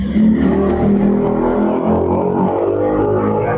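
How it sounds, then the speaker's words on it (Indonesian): A motorcycle passes close by outdoors, a loud engine drone that rises and then recedes over a few seconds. "Mohon maaf, ada motor."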